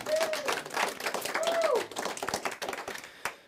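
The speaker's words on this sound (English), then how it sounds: "Everybody give Trump a round of applause." A smaller group claps in a loose, uneven round, individual hands fairly distinct, with short tonal chirps briefly over the clapping before it thins to scattered claps and a final single clap.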